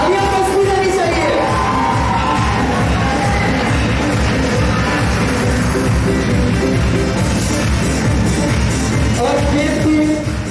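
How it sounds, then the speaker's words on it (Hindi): Dense crowd noise at an annual function and award ceremony for a coaching class, with steady applause, cheering and shouts filling the whole stretch loudly and continuously. "तालियां बजती रहनी चाहिए।"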